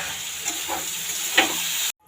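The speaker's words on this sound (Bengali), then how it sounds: "মা এদিকে এই যে আলু ভাজা" Potatoes frying in a home kitchen pan give a steady sizzle and hiss, with a few brief louder pops and stirring scrapes, before the sound cuts off abruptly near the end.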